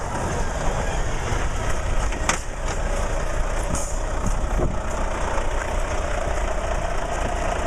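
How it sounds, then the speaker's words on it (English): A truck rumbles steadily along a highway past protesters, a loud continuous engine drone with a few sharp knocks or air-brake bursts over constant traffic noise. "So that was the truck making an attempt to pass the protectors."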